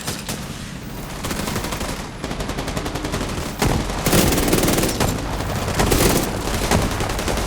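Sustained rapid gunfire in The Division 2 video game, dense bursts of shots crackling loudly and almost continuously, with heavier volleys building toward the end.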